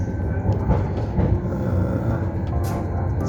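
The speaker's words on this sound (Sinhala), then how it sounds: "මිලානෝ සිටි එක ඇතුලේ පොඩි මෙට්‍රෝ ට්‍රේන් එක යන්න අවස්ථාවක් හම්බුණා" A small metro train runs through the city of Milan, giving a steady, loud rolling rumble with faint rattling and clatter from the carriage throughout, with no talking.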